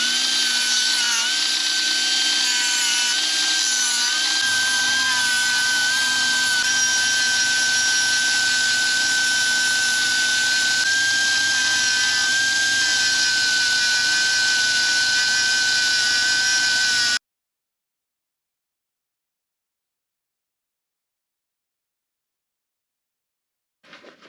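A loud, high-pitched power tool whines steadily for about seventeen seconds while stripping paint from a homemade Caterpillar injector removal tool made for a 1939 Caterpillar D4, then cuts off abruptly into silence, with a brief faint noise at the very end.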